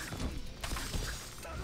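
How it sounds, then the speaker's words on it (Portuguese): Brief shattering crash effect as a block is broken against Johnny Cage in a Mortal Kombat fight, a sharp burst over thumping game sounds. "Agora eu tenho que quebrar o bloqueio desse Johnny Cage."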